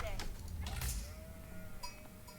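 A sheep bleats a few times in the video game Age of Empires IV over a steady background hum, the calls short and wavering, with a faint voice or clatter in between.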